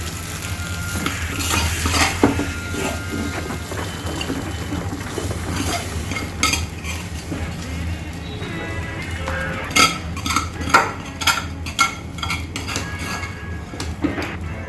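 Fried potatoes are stirred into a dish in a pan: a continuous oily sizzle with scraping and clinking of a utensil against metal, growing busier and more clattery toward the end, with no voices.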